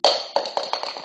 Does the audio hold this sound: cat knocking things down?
yes